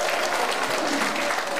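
A lecture audience in Busan applauding to welcome a lawyers' association speaker, a brief dense burst of steady crowd clapping at full volume.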